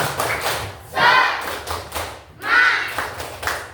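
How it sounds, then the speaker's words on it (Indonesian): A group performs a rhythmic spirit clap in a coding and AI training session: two loud bursts of clapping and thumps with voices mixed in, repeated in a steady pattern. "Untuk menambah semangat hari ini, tepuk semangat."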